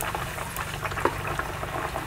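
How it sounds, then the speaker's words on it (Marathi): Dhapate flatbreads frying in hot oil, a loud close bubbling sizzle with small pops, steady throughout and free of talk. "दोनच राहिलेले आहे ते सुद्धा मी तळून घेते"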